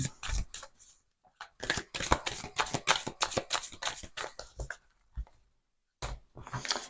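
Oracle cards are shuffled close up in quick riffling bursts of papery flicks, with a short pause before the shuffling resumes.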